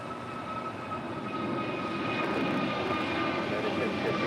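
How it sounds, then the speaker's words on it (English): A KLM Dreamliner airliner about to touch down on runway 25 left, its jet engines a steady, far-off roar that slowly builds, heard alone with no talk. "It's the KLM Dreamliner about to touch down at 25 left"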